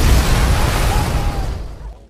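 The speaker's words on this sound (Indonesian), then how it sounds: "Setelah terjadi ledakan," An explosion rolls out as a heavy, broadband roar that stays loud for over a second and then fades away.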